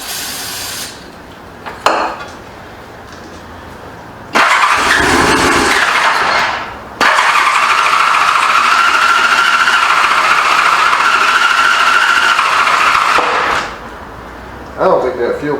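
A 1985 Honda Goldwing GL1200 motorcycle being started after a carburetor rebuild, with two long, loud cranking stretches carrying a steady whining tone, separated by short pauses and preceded by quieter clicks.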